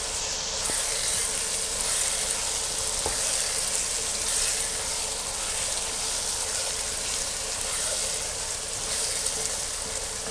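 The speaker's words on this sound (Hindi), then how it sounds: "तकरीबन 5 मिनट मैंने टमाटर डाल के भूना है।" Tomatoes and green chillies fry in a pan, a steady, dense sizzle that holds evenly throughout, close up and without talking.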